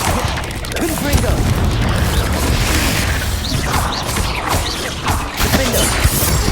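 Confringo blasting spell explosions in the Hogwarts Legacy game during a crowded fight: a loud, dense jumble of crashing bursts, booms and clattering impacts packed closely together, with no quiet moments.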